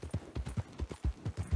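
Horse hooves clip-clop steadily in Red Dead Redemption 2, a quick regular rhythm of soft low thuds at close range, with no talk over them.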